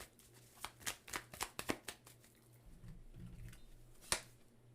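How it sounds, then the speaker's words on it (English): Tarot cards being shuffled and drawn from a deck: a quick run of crisp riffling flicks and slaps, then a quieter stretch of soft handling and one final sharp snap, close and alone with no voices. "So let's pull some clarifying cards for the Five of Cups."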